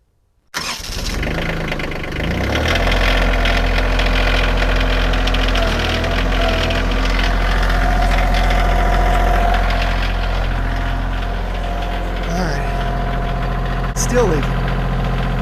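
A Kioti CK2610 tractor engine cranks and catches abruptly, then settles into a loud, steady diesel idle with a knocking rumble that holds close by for the rest of the time.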